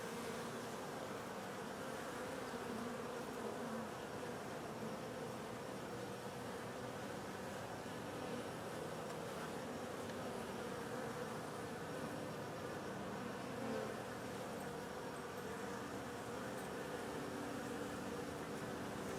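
Honeybees buzzing steadily inside an open hive during a quick beekeeping check, a dense continuous hum close by that holds level throughout with no talking.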